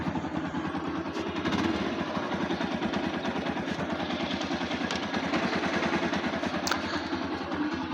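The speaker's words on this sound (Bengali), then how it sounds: "দেখেছেন ইঞ্জিন সাউন্ডটা কত ভালো আছে, এখনও অস্বাভাবিক ভালো আছে।" Close-up of a used TVS Apache RTR motorcycle engine idling, a steady rhythmic low chugging with a faint mechanical clatter, unbroken and even for the whole stretch with no voices.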